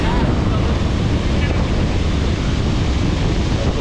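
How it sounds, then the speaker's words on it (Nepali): Wind-driven waves slap against a motorboat on Begnas Lake near Pokhara in a steady, loud wash of water noise, with wind buffeting the microphone throughout and no clear voices. "कस्तो छाल हानेको छ हेर्नु है"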